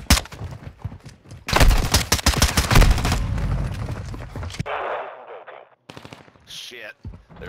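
Call of Duty Modern Warfare II gunfire, dense bursts of automatic rifle fire and loud shots packed together, then quieter game sounds and a brief voice.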